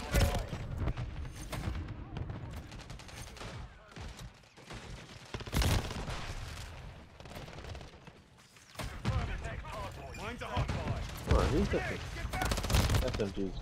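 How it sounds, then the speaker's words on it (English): Rapid SMG gunfire in an online shooter game crackles in dense bursts and sustained volleys, loud and close, mixed with other weapons fire and a player talking over the action. "SMG just shoots faster than mine"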